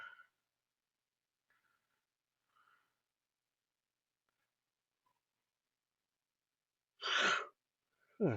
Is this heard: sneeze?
yes